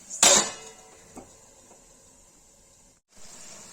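A lid set down on a cooking pan of frying radish for Kashmiri mooli chutney: one loud, close metallic clank, a small knock after it, then a soft steady hiss of cooking that briefly cuts out before returning.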